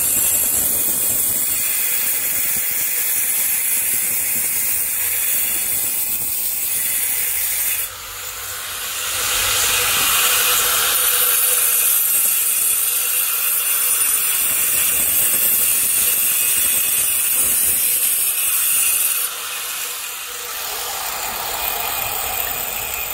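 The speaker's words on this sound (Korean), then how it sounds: "벽돌을 깔끔히 자르시고 싶은 분들은 여기를 먼저 날리고 그대로 이어서 뒤에서 또 날리면 되는데" Power saw cutting brick stone for a garden bench, a loud sustained high-pitched grinding whine that shifts in pitch as the blade bites in and eases off, running continuously with no talk.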